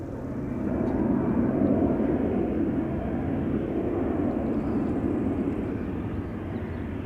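A KLM Boeing 737 jet approaching at Schiphol's Polderbaan runway gives a steady, broad engine roar that swells early and holds loud and close throughout, with no voices.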